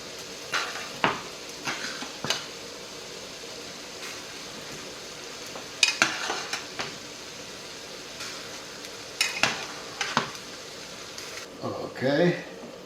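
Noodles and colorful vegetables are tossed in a stir-fry pan, giving soft scattered clatters and scraping knocks over a faint background hiss, fairly quiet and irregular.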